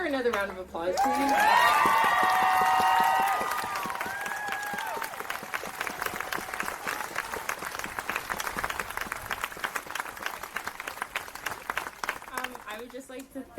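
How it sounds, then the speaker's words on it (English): An audience at a Black Lives Matter gathering in Owen Sound breaks into applause after a cheer, steady clapping that rises and then thins out, with a voice speaking over the start. "Another round of applause, please."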